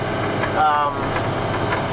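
A 1998 John Deere 7410 tractor idles with a steady low rumble and a constant whining hum, the engine close by and unchanging.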